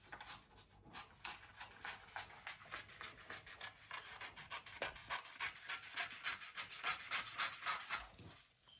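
Paper strips are cut for a flower collage in a quiet, close run of repeated rhythmic snipping strokes, with no other sounds around them.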